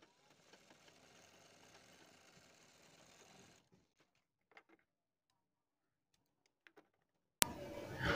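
A sewing machine stitches a kurti neck piece with a faint, steady whirring run of a few seconds. It then stops, leaving near silence with a few light clicks before a louder burst of noise at the end.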